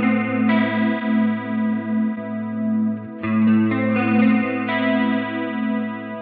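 Electric guitar chords played through an Ampeg Liquifier chorus model on a Line 6 Helix, the effect blended at half, giving a shimmering, slightly distorted sustained tone with a few chord changes and no talking.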